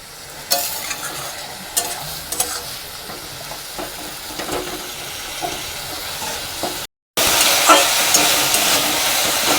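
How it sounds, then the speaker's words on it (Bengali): Masala stirred and sautéed in oil in a pan over a raised gas flame for doi katla: a steady close sizzle broken by scraping spoon strokes, a brief silence near the end, then a louder, fuller hiss. "যতক্ষণ না এটা তেল ছাড়বে ততক্ষণ এটাকে আমি কষাতে থাকবো"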